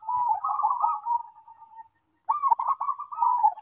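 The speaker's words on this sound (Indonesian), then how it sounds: "Biar perkutut dulur-dulur pada moncer seperti ini" A perkutut zebra dove sings in rainy season, its soft rolling coos repeated in two long phrases separated by a brief pause, close and clear against a quiet background.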